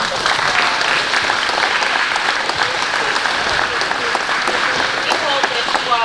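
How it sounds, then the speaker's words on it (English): An audience at a peanut panel event gives the panel members a sustained round of applause, loud, dense clapping that continues for several seconds with a few voices talking over it. "Please give our panel members a round of applause."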